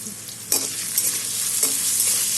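Potatoes fry in a pan with salt and turmeric, giving a steady close sizzle broken by a few stirring scrapes, with no talking.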